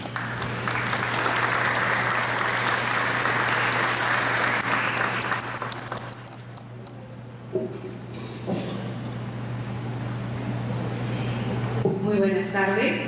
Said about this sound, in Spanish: Vamos a recibir un fuerte aplauso.